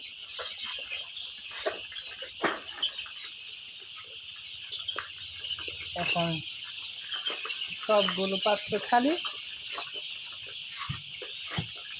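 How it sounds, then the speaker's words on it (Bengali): Chickens in a poultry shed cluck and squawk in bursts over a constant high-pitched hum, with a person speaking nearby between the calls. "সবগুলো বসে আছে, কি সুন্দর হয়ে বসে আছে মুরগিগুলো।"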